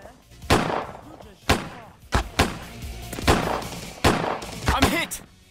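Gunshots in the police game Autobahn Police Simulator 3, in an off-road setting: about seven sharp, loud single reports at uneven intervals, each with a short ringing tail, with speech and game sounds faintly underneath.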